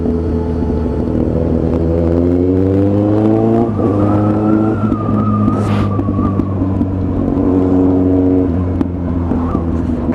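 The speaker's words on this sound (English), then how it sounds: "I'm back on the throttle." A motorcycle's engine rises in pitch under throttle as it rides on a road, the harmonic drone climbing steadily, loud and continuous throughout.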